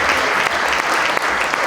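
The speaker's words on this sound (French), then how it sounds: "bonne main d'applaudissements pour nos 3 finalistes dans cette catégorie" Loud, dense applause fills an awards ceremony hall as a crowd cheers three category finalists, with a steady roar of many hands clapping close by and a few sharp individual claps.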